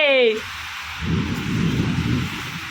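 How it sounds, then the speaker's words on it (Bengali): Heavy rain pours during a thunderstorm, a continuous low, rumbling wash of noise that follows a brief voice at the very start. "ওই দেখো ঝমর ঝমর করে বৃষ্টি শুরু হয়ে গেছে রে"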